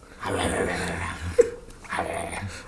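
A person imitates a growling dog with a low, rough growl lasting about a second, then a short yelp and a second shorter growl, heard close and fairly loud.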